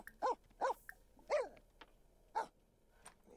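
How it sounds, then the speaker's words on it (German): A dog in the video game Sims 4 gives deep, spaced barks, four distinct woofs with a softer one at the end, clear and close against a quiet background. "Der, der bellt auch viel tiefer."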